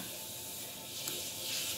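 Household water running or a washing machine churning in the background, a steady faint hiss of flowing water with no talk over it.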